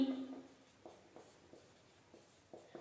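Pen or chalk strokes tap and scratch in short, faint bursts as a maths solution is written out, a quiet sequence of separate strokes with a brief voice at the start.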